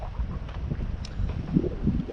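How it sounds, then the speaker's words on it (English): Wind gusting across an open reservoir while out in a kayak, a steady broadband rush with buffeting low rumble against the microphone, continuous and close throughout. "A bit windy right now"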